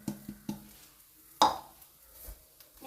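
Grated coconut with cardamom powder stirred in a pan, a few soft scraping strokes at the start, then one sharper clink of a spoon against the pan and quiet gaps, close and fairly faint.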